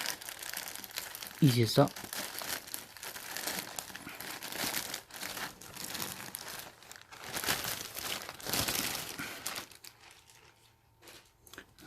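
A black Adidas Essentials crewneck sweatshirt is torn out of its plastic packaging, giving a short burst of crinkling and ripping near the start, followed by lighter rustling while a person talks.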